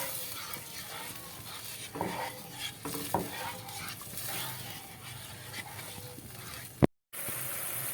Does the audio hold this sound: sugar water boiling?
yes